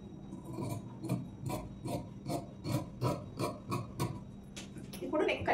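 Scissors cutting the back piece of blouse cloth, heard as a series of soft rasping snips at a steady rhythm, close and quiet.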